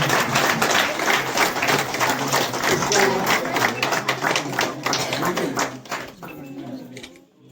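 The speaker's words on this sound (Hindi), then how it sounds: "प्लीज जोरदार तालियों के साथ उनका अभिनंदन करें।" Crowd applause at a village Independence Day celebration, loud sustained clapping from many hands that carries on for several seconds before fading out, with faint voices mixed in.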